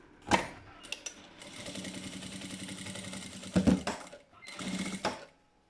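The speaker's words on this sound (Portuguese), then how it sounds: "vou colocar direito com direito e vou passar aqui uma costurinha" A sewing machine stitches a seam on a purse in short bursts of fast, even mechanical whirring, close and clear, with brief pauses and clicks between runs.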